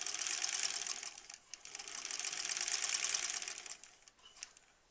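A sewing machine stitching rows of a quilt block, a steady fast whirring, rattling run that pauses briefly and then continues before slowing to a stop, close and alone without talk.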